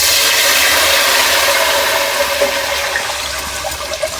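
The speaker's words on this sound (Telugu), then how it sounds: "మంచిగా మన పాలు వేసుకోవాలండి" Milk pours into hot ghee in a pan while sheer kurma is made for Ramzan, a steady loud rushing, bubbling hiss that runs throughout and eases slightly toward the end.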